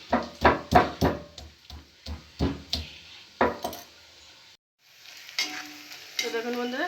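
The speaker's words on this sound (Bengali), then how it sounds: "পেঁয়াজ তো ওদিকে ভাজা হচ্ছে" While Mughlai chicken is being cooked, onions fry in a pan and a utensil stirs them in a rhythmic run of close, loud scrapes and clatters. A quieter sizzle follows, and a short voice comes in near the end.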